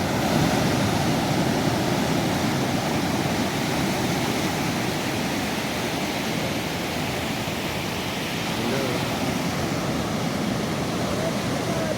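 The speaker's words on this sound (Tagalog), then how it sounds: "Pinuntahan lang namin itong dagat." Sea waves washing onto a beach in Ilocos, a steady, fairly loud broadband roar of surf that continues without breaks and with no clear voices over it.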